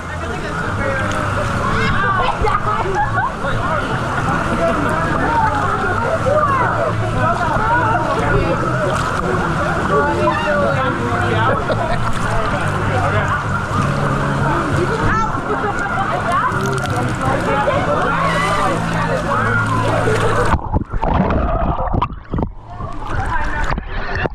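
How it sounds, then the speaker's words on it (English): A wave machine churns a wave pool at the Volcano Bay water park into choppy water, producing a loud, unbroken roar of sloshing and splashing that drops away abruptly near the end, with voices mixed in. "here's the wave machine started, so this time round it's going to be a choppy one"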